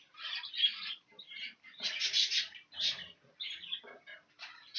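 Several hens squawk and cluck in quick, uneven bursts, fairly close and moderately loud, with short pauses between calls.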